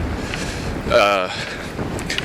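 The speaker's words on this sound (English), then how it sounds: "Damn, getting windy." Gusty wind buffets the microphone in a steady low rumble, swelling briefly midway, with a short burst of voice over it.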